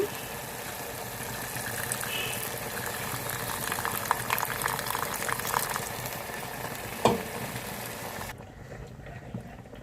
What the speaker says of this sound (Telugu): కొంచెం వాటర్ కూడా వేసాను దగ్గరగా ఉడకాలండి